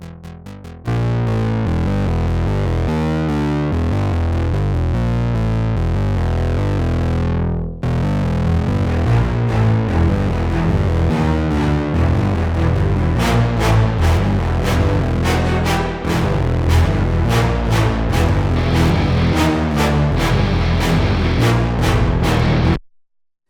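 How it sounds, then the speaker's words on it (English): A heavily distorted orchestral track plays loud and dense, its crushed, buzzing texture continuing without voices, with rhythmic bursts toward the end. "It's really just a kind of brew of distortion."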